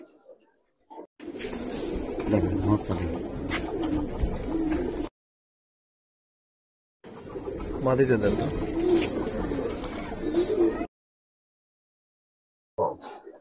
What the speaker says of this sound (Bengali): পুরান জেনারেশনের অরিজিনাল হেরিকেন কবুতর।